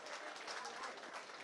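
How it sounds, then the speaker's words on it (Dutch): Crowd applause at an amateur football match as a substituted player leaves the pitch, a steady dense wash of clapping throughout at moderate distance with no talk. "Hij krijgt een ovationeel applaus."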